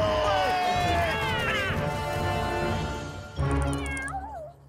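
A cat meows several times in drawn-out, wavering cries, loud and close, with a jumble of voices and commotion underneath.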